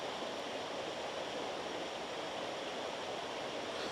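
Water flowing steadily at an aqueduct, a continuous broadband rush with no break or change in level, heard alone without voices.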